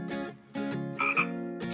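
Frogs croaking in a close chorus of loud, raspy calls, several bursts in quick succession with a higher chirping call partway through, no talk.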